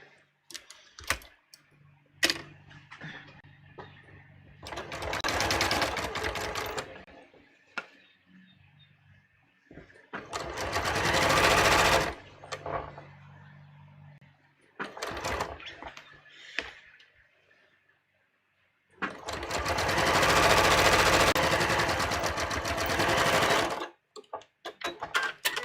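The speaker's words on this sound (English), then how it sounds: "I'm just going to sew my side seams here." A sewing machine stitches the side seams of a half-scale garment in three long, steady runs broken by pauses, loud and close, with light clicks and handling noises during the gaps.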